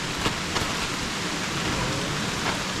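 Steady, dense rainfall heard outdoors in the morning, a constant loud hiss with occasional louder drops and no voices.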